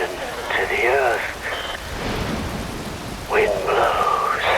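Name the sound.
rain falling in the video game Metal Gear Rising: Revengeance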